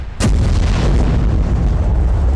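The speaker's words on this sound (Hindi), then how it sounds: "एक ही जगह पर एक ही वक्त में बैक टू बैक 3 धमाके" An Israeli airstrike near Al-Shifa hospital in Gaza lands as one sudden loud blast, followed by a deep, sustained roar of rumbling aftermath.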